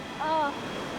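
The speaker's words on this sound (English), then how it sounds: "The point where the baking hot Namibian desert meets the cold Atlantic" Cold Atlantic Ocean surf where the Namibian desert meets the coast: a steady broadband wash of waves, with a short tonal sound rising briefly over it early on.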